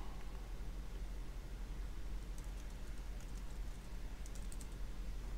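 Notes typed on a computer keyboard, a fast run of soft, quiet key clicks over a steady background hiss, with no talking.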